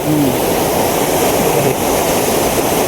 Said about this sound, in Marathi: हा पाण्याचा पाट आहे